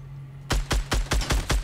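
Rapid sniper rifle shots in Fortnite Battle Royale, six sharp loud cracks spaced about a fifth of a second apart over a steady low hum, no talking.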